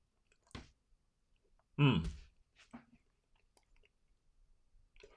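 Close, quiet mouth sounds with scattered tiny crackling pops of popping candy from a Hershey's White Creme bar with sprinkles, activated with saliva, plus one louder wet mouth noise near the middle.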